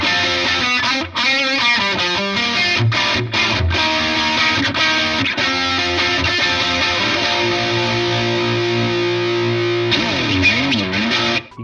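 Distorted Squier Mini Strat electric guitar plays chords and riffs, loud and continuous, with brief gaps and a wavering bend near the end.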